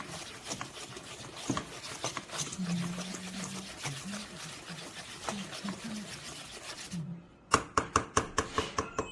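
Castella cake batter mixed in a bowl, a continuous scraping and swishing of utensil through thick batter under a low voice, then a quick series of sharp tapping strikes against the bowl.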